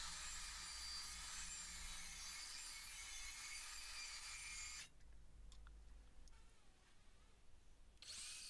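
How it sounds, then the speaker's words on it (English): A miter saw cuts through scrap door wood, mahogany and pine, with a loud, continuous whining rasp for several seconds before it cuts off, leaving quieter scattered workshop noises. "Now I could start to make the cuts on the miter saw."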